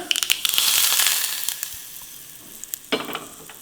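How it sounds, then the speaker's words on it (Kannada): Hot spiced tempering poured over grated radish, giving a loud burst of sizzling that swells over about a second and then fades into a softer crackle, with a brief renewed spurt near the end. "ಈ ಒಗ್ಗರಣೆನ ಈ ತುರಿದಿರೋ ಮೂಲಂಗಿಗೆ ಹಾಕೊಂಡ್ಬಿಡೋಣ."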